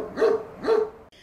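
Two loud, close dog barks about half a second apart at an animal refuge, followed by a brief fainter yelp.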